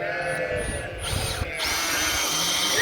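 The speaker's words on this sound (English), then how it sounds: "So we're just going to put this little drill right in here." A power drill whirs steadily with a high-pitched motor whine, close by, with sheep bleating faintly in the background.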